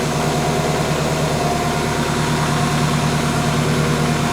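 The diesel engine of a Kubota M5660 SU tractor runs steadily at low RPM while warming up on a cold day, a loud, close, continuous rumble with a droning hum and no talk.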